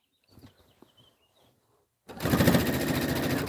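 A sewing machine stitching a quilt, starting abruptly after a second of soft handling and small clicks, then running steadily and loudly with a fast motor buzz.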